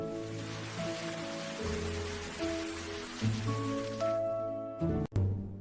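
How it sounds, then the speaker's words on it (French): Water splashes and patters steadily while vegetables are washed under it, a soft continuous wash with light background music, ending in a brief clunk. "I wash the vegetables."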